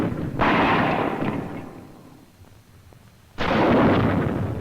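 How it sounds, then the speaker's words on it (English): An M6 bazooka rocket launcher fires twice in a WWII training setting, each shot a loud, sudden broadband blast that cuts in sharply and rumbles on for a few seconds, with a quieter lull between the two. "When the rocket fires"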